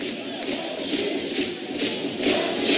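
Home fans roar in a sports hall during a Switzerland versus Bosnia and Herzegovina handball match, a loud surging crowd cheer that swells in waves with no clear talk.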